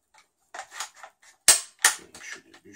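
Parts of a pump-action shotgun are handled and fitted into place: a few soft metallic clicks and rattles, then two sharp, close snaps of metal seating, followed by lighter clicks.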